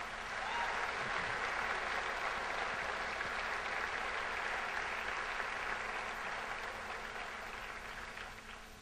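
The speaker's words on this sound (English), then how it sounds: "Let's give a nice round of applause to the Concordia Singers." Audience applause for the Concordia Singers at the Unity Music Festival, a steady even wash of clapping from a crowd that holds strong and tapers slightly toward the end, with no voices over it.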